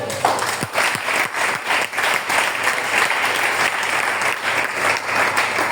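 A church congregation claps loudly and continuously, a dense roar of many hands that fills the room and holds at an even level throughout.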